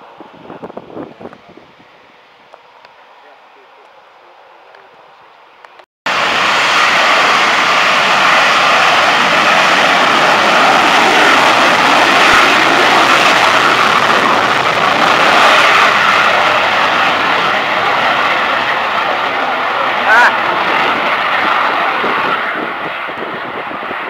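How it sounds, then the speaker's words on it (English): Eurofighter Typhoon jet taking off at RAF Coningsby: after a few seconds of quiet wind, a sudden loud, sustained jet engine roar bursts in and holds steady, slightly easing toward the end. "Typhoon taken off."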